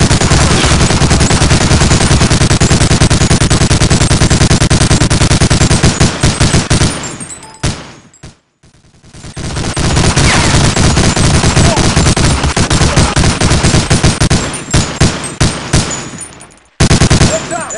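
Dense, loud automatic gunfire rattles almost without pause in a World War II shooter game, Medal of Honor Allied Assault. The fire drops away briefly twice and then resumes in rapid bursts.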